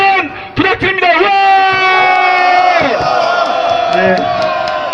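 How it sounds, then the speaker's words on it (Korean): A large crowd shouts and cheers loudly at an outdoor protest rally in front of the National Assembly, with sustained raised voices and whoops that swell and hold for several seconds. "여러분들 함성 한번 부탁드립니다"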